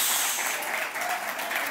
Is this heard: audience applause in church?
yes